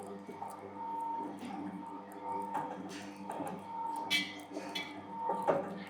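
A roti-making machine mixes flour dough seasoned with salt and sesame, giving a steady mechanical hum with a rhythmic whir that runs the whole time, while people talk nearby.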